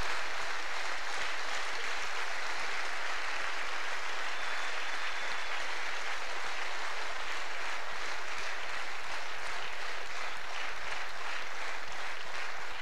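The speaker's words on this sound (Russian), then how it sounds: "Аплодисменты вам." Sustained applause from a large business-forum audience honouring gold directors of the Oriflame company, a dense steady wash of clapping that holds at full strength for about thirteen seconds.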